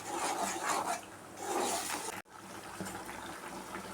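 Running water splashes and swishes inside a mixer jar being rinsed, a steady rinsing noise with a brief cutoff partway through, then continuing more softly.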